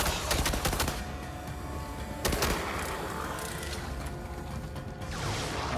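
Allied soldiers fire guns in Red Faction: Armageddon, dense rattling bursts of automatic fire and mechanical clatter that carry on steadily, loud and close, with sharper clusters of shots near the start and middle.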